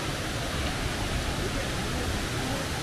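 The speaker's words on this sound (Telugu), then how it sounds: "చూడండి ఇక్కడ మినీ వాటర్ ఫాల్స్ కూడా ఉన్నాయి." Mini waterfalls at Lakkam in the hills of Munnar pour in a steady, dense rush of water, loud and close, without pause.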